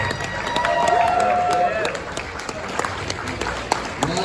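Audience applauding at a 100% Raw powerlifting Hall of Fame banquet, a dense wash of clapping from a full room with a few cheers and voices mixed in, loud at first and gradually thinning out.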